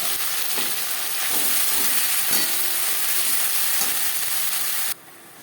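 Ghatkol leaf paste, added to a pan with garlic, fries with a steady, bright sizzle and crackle, with occasional stirring taps, then the sizzle drops away abruptly near the end.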